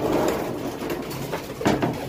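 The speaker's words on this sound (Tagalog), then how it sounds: "Ito yung mga ibon ni Idol Night Slope." Racing pigeons in a loft giving soft, low cooing calls and rustling, close and fairly loud, with a brief louder flutter near the end.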